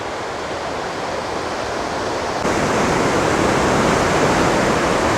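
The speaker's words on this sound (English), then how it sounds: "Here's a shot of one of the smaller waterfalls" A small waterfall on the rocky Potomac River gives a steady, full rushing roar of falling water. The roar grows slightly louder partway through and then holds constant, with no voices.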